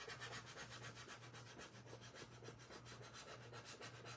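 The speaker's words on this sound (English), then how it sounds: "I'm going to burnish it." A paper letter is rubbed down with a burnishing tool during a paint party, giving a steady, close scratchy rubbing in quick repeated strokes for the whole stretch.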